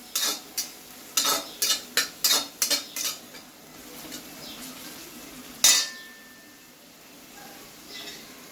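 Spice paste with turmeric stirred in a pan for a Gujarati dry potato dish cooked without onion or garlic, with a run of sharp metal spoon scrapes and taps against the pan over a soft sizzle, then one louder clank and quieter frying.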